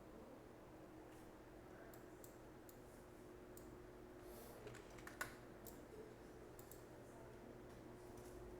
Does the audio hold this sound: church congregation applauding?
no